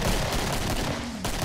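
Sustained loud gunfire in the video game Killing Floor, a continuous barrage of shots close up with no pauses.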